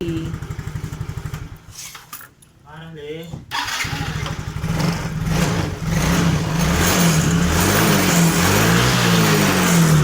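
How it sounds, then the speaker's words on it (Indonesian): A Yamaha Mio J motorcycle engine with an intermittent stalling fault chugs at idle, cuts out briefly with a starter whir, then roars back and runs loudly, revving unevenly. "Nah, ini seperti motor tidak ada kendala, tapi sebenarnya terkadang matian"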